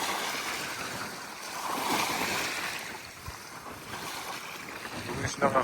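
Wind and lapping waves on the Toshmorya lakeshore make a steady, moderate rushing wash that swells and eases, with a few soft knocks near the end.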